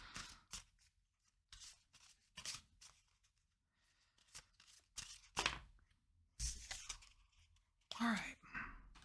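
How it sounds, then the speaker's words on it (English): A few tarot cards being shuffled by hand in short bursts of soft rubbing and flicking, separated by quiet gaps, close and faint. "It's kind of hard to shuffle with just like a couple cards."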